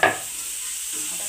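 Tomato dropped into onions frying for a chicken curry makes a brief burst of sizzle at the start, then settles into a faint, steady hiss.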